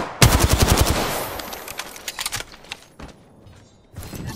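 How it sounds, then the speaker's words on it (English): Rapid automatic gunfire in Apex Legends erupts in a loud rattling burst, then breaks into shorter scattered volleys and clicks, with a final burst near the end. "Opening fire."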